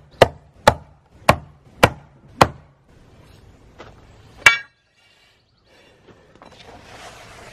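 Five sharp, evenly spaced metallic whacks on a leftover piece of knife-blade steel during a hardness test, loud and close, followed by one more strike and quiet handling noise.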